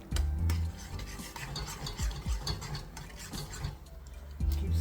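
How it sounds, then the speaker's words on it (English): Egg bhurji being stirred in a pan, with a spatula scraping and tapping against the metal in an uneven rhythm over a low background sizzle. "So keep stirring for the bhurji from the sides."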